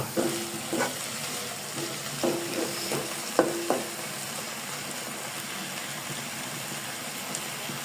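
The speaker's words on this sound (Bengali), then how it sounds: "আমি এটি কিছুক্ষণ ভাজা ভাজা করে তারপর নামিয়ে নেব" Water spinach fries in a pan while being stirred, with a steady sizzle and a cluster of scraping spoon strokes in the first few seconds, then a quieter continuous sizzle with no talking.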